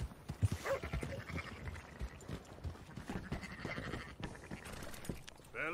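Sheep bleat in the open countryside of the Western game Red Dead Redemption, with a few short calls among hoof clops and ambient rustle at moderate distance, no talking.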